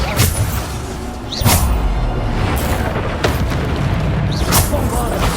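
Bombarda spell blasts in Hogwarts Legacy gameplay, several heavy booming explosions with sharp cracks and rumbling thuds, loud and close amid continuous combat noise and shouted spell names.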